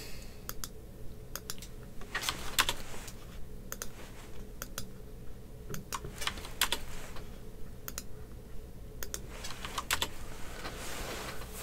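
Computer keyboard keys are pressed during a Vassal board-wargame session, bursts of quick, fairly close clicks in irregular clusters with short pauses between, over a faint steady hum and no talking.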